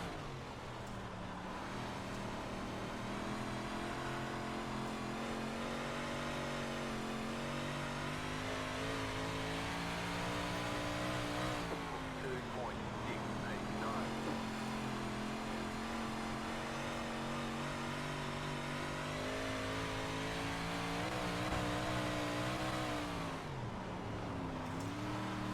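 358 modified race car at Williams Grove in the iRacing video game: a high, steady engine drone held at speed, with brief dips in pitch at intervals as the car slows for turns and climbs again, heard alone.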